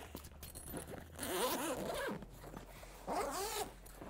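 Zipper pulled open along the main compartment of a Rocky Mountain motocross gear bag, two long rasping runs with a pause between, close and clear with no talking.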